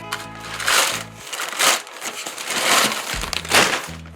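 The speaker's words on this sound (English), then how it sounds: "Plastic bag." A plastic bag crinkles and crackles in several short bursts as it is handled up close, with brief pauses between the rustling.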